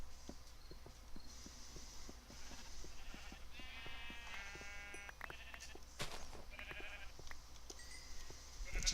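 Sheep bleating in the Minecraft video game, a few short bleats in the middle over steady game ambience and repeated soft ticking footsteps, fairly quiet throughout.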